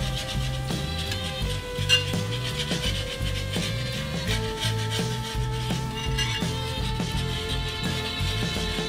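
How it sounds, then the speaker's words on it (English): Roux and stock whisked together in a pot, giving a steady, close scraping and rubbing rhythm of the whisk against the metal with faint clinks, with no talking. "You want to make sure to give this a good whisk to incorporate the roux and the stock."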